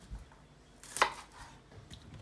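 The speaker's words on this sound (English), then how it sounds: "you just chop as small as possible" A red onion chopped small on a board, one crisp knife strike standing out amid quieter, softer cuts, close and alone.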